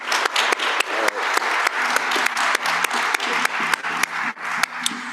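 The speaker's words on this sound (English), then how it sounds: "I'd like to give a round of applause for this great panel." An audience at a university law panel applauds warmly, a dense, even wash of clapping with individual claps standing out close by, continuing for several seconds.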